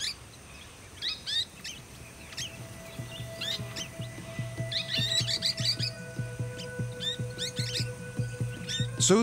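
Golden-shouldered parrots call in repeated sharp, high chirps and quick tweets over a low background drone in bushland with thick grass, the calls coming in clusters and growing busier and louder.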